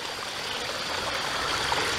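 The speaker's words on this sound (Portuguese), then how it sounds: "Água escorrendo aqui na beiradinha." Sewage water trickles steadily out along the edge of a manhole cover, a close, continuous hissing flow with no voices.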